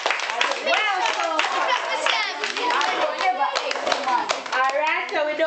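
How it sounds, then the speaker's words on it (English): Children clapping their hands in a classroom, brisk overlapping claps mixed with lively kids' voices chattering and calling out, close and continuous throughout. "Alright, clap yourselves, man."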